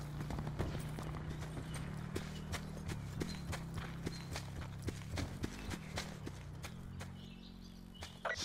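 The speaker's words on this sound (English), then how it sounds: "Those footsteps were loud as fuck, bro." Loud, close footsteps in Call of Duty: Black Ops Blackout, a steady run of heavy steps thudding over a constant low in-game hum, with no talking.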